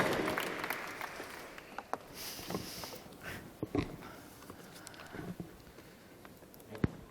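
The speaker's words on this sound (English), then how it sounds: "Another big round of applause for Anne Imhof." Faint, scattered clapping from an audience at an artist-and-curator talk, sparse and uneven, with a few louder claps standing out.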